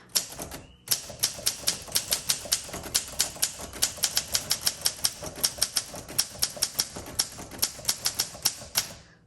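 Typing on a 1953 Olympia SM3 manual typewriter, a brisk run of about thirty sharp, close keystrokes in an uneven rhythm after a brief pause near the start.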